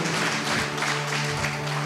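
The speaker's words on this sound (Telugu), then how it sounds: "గట్టిగా చప్పట్లు కొట్టాలి. అరే కొట్టండి అమ్మ చప్పట్లు" An audience in a church claps continuously, a dense steady patter of many hands close by that fills the whole moment without pause.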